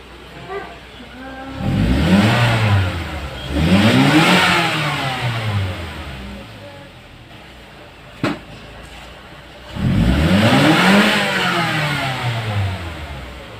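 A Ford Escape with a crank, no start fault, now running: three rising revs of the engine surge and fall back toward idle, with a sharp click between them, loud and close.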